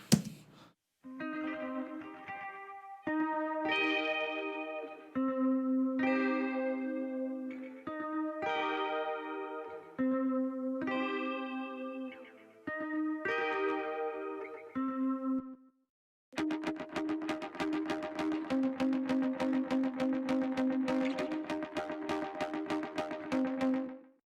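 Electric guitar chords and arpeggios played through gritty, warbling effects that make it sound crusty and lo-fi, with a brief dropout before a thicker, distorted section.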